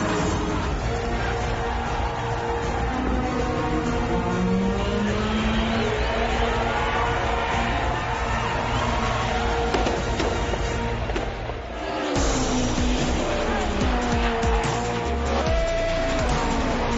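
A 1992 Mercedes 190E Evo 2 DTM race car roars continuously at high revs, its engine note rising and falling through gear changes, with a brief dip in intensity before the sustained drone returns.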